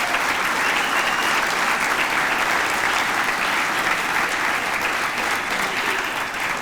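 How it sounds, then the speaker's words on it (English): Steady, dense applause from a large audience at a regional annual business meeting, loud and continuous throughout with no voices over it. "Let's give them the first of many rounds of applause."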